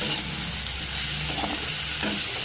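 Fish curry base with green chillies being stirred and fried in a pan, giving a dense, continuous loud sizzle with soft scraping stir strokes close by.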